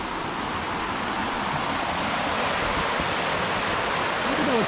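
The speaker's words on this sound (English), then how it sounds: "Oh, here's a nice creek." Creek water flows steadily at Kokanee Creek Provincial Park where the stream steps down over ledges, a dense continuous rushing wash close by, with faint voice traces near the end.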